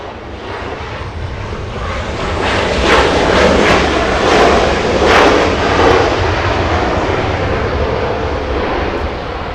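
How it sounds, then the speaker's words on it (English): A Delta airliner arriving at Los Angeles International Airport after a flight from San Francisco makes a loud, steady broadband roar that swells through the middle of the pass and eases slightly as it goes by, with no voices. "Delta 2504 flying in from San Francisco, California."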